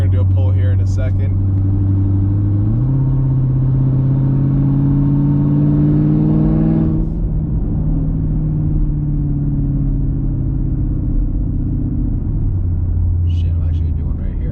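A 6th-gen Camaro SS making 500 wheel horsepower on Mickey Thompson drag radials accelerates hard, its loud, close engine roar climbing in pitch and dropping at each of several gear shifts, heard from inside the cabin.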